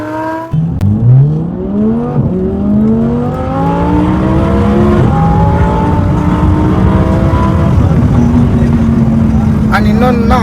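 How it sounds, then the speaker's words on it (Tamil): Audi R8 with a V10 engine and custom loud exhaust revving, a strong rising engine note that climbs in pitch and holds steady, loud and close throughout. "கஸ்டம் எக்ஸாஸ்ட் அந்த அளவுக்கு ஒரு லவ்லியான ஒரு நோட் V10 இன்ஜின்ல இருந்து"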